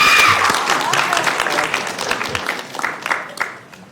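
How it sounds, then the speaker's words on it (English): A city council audience bursts into applause and cheering after a vote, with a dense wash of clapping that is loud at first and gradually thins and fades out. "Now you can cheer."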